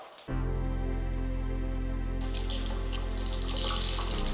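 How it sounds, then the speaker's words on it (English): Water from a faucet fitted to a sink made from a Ferrari: a steady, close rushing stream that starts abruptly and then grows brighter and more splashy. "Nothing left to do now but turn the water on."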